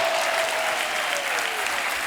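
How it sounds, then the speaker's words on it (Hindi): A TV comedy show studio audience claps steadily, a dense, even wash of applause throughout. "एक बार जोरदार तालियां हमारे मेहमानों के लिए।"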